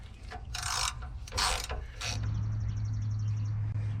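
A ratchet wrench clicks rapidly in two loud bursts, then settles into a steady, quicker ratcheting run, loosening the front hose clamp on the air-to-air tube of a 2007 Freightliner truck with a Series 60 Detroit engine.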